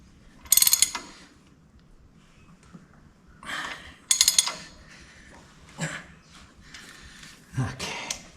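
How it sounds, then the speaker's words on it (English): A large ratchet tightening bolts on the plow points of an IH 720 plow, with several separate bursts of sharp metallic clicking, close and distinct, split by quiet pauses and a few fainter mechanical knocks. "I'm going to use my biggest ratchet and make sure that they're plenty tight."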